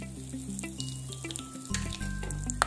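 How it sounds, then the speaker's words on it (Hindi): Whole spices, cinnamon, mace, cumin and asafoetida, fry in hot oil, giving a steady soft sizzle with a few small clinks and a utensil bump partway through, no talk. "इनको ज्यादा देर के लिए नहीं भुनना है, लगभग 10 सेकंड के लिए बस।"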